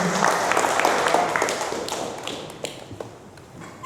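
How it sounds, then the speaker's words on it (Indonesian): Audience applause at a talk on ethics and manners, a dense burst of clapping that starts loud and gradually thins out, ending in scattered isolated claps. "Tepuk tangan."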